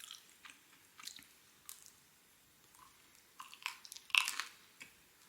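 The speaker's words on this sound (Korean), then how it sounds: "이 날개가 바삭바삭하니 좋아요." Crunchy bites and chewing on crispy pizza crust, close and quiet, with scattered crisp crunches building to a louder burst of chewing near the end.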